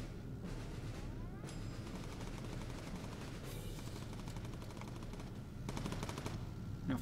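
Machine-gun fire at yellow training targets in the video game Bomber Crew, heard as faint rapid bursts of shots in several stretches over a constant low game drone, with no talking.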